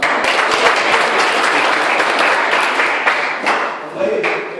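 Loud, dense applause from an audience filling a hall at a literary union's poetry celebration and art exhibition opening in Karbala, steady then tapering, with a voice speaking near the end.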